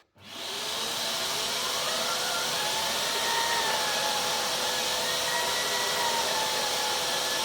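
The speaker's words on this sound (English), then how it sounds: "clean this portion of the rug with the spin scrub head." A Vax Multivax 6131T carpet cleaner with a spin scrub head starts up and shampoos a rug, rising quickly into a loud, steady motor roar with a whining tone. It runs close and continuously, with no voices.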